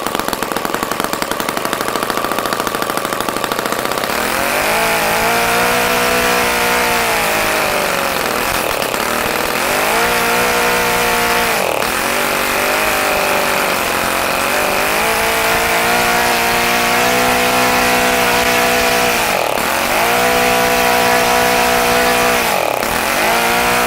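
An OS FS-120 four-stroke model engine on its first run, running lean, a loud continuous buzzing drone whose pitch rises and sags repeatedly as it surges, with brief dips that nearly stall it.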